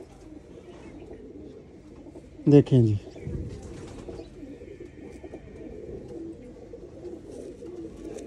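A pigeon coos once, a brief close burst of rolling coos, amid quiet background noise, with someone speaking briefly nearby.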